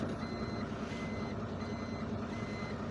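A steady rumble of a heavy engine dominates, with faint high-pitched vehicle reversing beeps repeating in the background.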